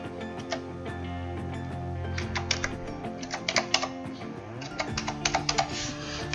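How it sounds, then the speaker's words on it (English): Someone typing passport details on a computer keyboard, with irregular bursts of key clicks over a steady low background hum, fairly quiet and close. "so just type in my passport detail"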